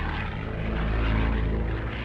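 Supermarine Spitfire fighter aircraft engine, a steady loud propeller drone with a deep throbbing rumble, sustained throughout without talking.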